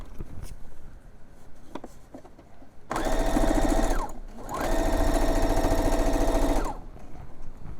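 A sewing machine stitches a tote bag at close range in two steady bursts of rapid, even clatter with a short pause between, while soft handling noises come before and after.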